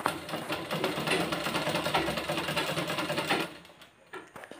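Close and steady, a sewing machine stitches fabric in a fast run for about three and a half seconds, then stops, leaving a few faint clicks.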